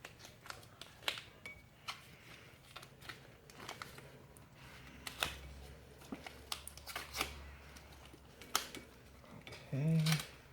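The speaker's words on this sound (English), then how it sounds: "take this end and just go ahead and get some duct tape around it" Duct tape being pulled and wrapped around the end of an OMC Cobra sterndrive shift cable: close, crackly rustles and short sticky tearing bursts, with a louder rip near the end.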